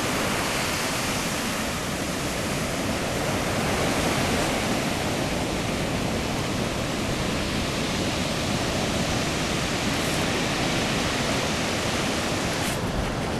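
Steady broadband wash of waves breaking on a beach at Crescent City, a continuous roar of surf that stays loud and even throughout with no voices.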